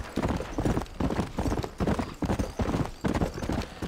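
A horse gallops in the Red Dead Redemption PC game, its hooves pounding in a fast, steady, loud clip-clop rhythm close up with no voices.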